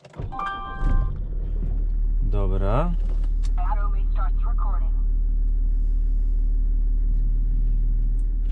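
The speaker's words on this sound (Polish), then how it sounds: "odpalam samochód, aby Wam to pokazać" BMW E60 engine cranking over, catching, then settling into a steady low idle, close and continuous, with someone speaking briefly over the start.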